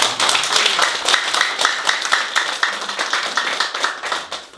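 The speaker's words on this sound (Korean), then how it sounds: "이 대목에서 고성이식한테 박수 한번." Lecture hall audience claps together in dense, steady applause, close and lively throughout with no talking, honoring a family line at a talk by a political science professor.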